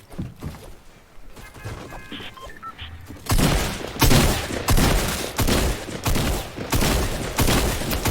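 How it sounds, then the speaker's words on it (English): Gunfire from other players in Fortnite: quieter scattered noises give way to loud, repeated bursts of shots, dense and closely spaced, filling the second half. "Why are people always shooting me?"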